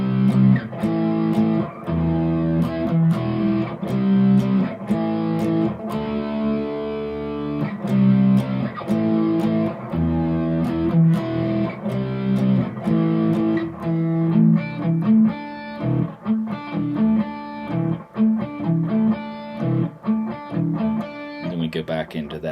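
Distorted electric guitar plays the chorus chords of a song, loud and close, with chunky rhythmic strums, brief gaps and shifting chord changes over about twenty seconds.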